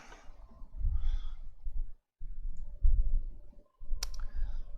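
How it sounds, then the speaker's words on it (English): A sticker is peeled slowly off a part held close to the microphone while building an AMD Threadripper 3990X computer, giving crackly, tearing rustles in two long pulls separated by a short pause, ending in a sharp click. "I should hold that right up to the microphone, get some good ASMR sticker peeling sounds going here"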